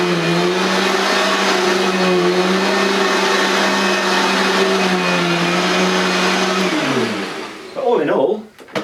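A Vax VCU-02 commercial upright vacuum cleaner runs loud and steady with a constant whining motor drone, then winds down near the end as the pitch drops, followed by a few brief clunks.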